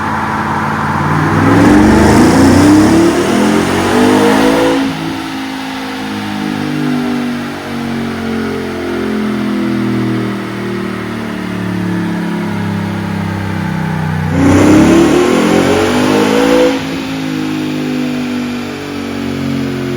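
A 2023 Ford Raptor R with a 5.2L V8 and an S&B intake kit revs hard on a dyno, two loud rising sweeps near the start and again around fifteen seconds, with a steady engine drone between them.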